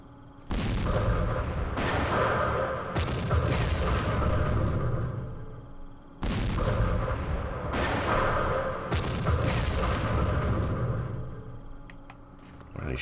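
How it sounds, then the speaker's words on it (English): Machine gun and heavy weapons fire in the Vietnam war strategy game Campaign Series Vietnam, rumbling bursts of booming shots rolling in two long waves with short pauses, loud and dense, no talk. "Machine gun."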